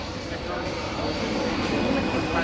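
An RC scale model plane flies overhead at a flying field, a steady whooshing engine drone that builds slightly as it comes in to land, heard at moderate distance.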